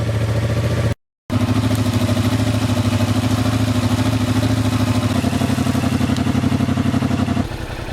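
A 2025 Yamaha MT-07 motorcycle idles while warming up, its steady engine rumble close and loud with a brief dropout near the start and a slight change in tone toward the end.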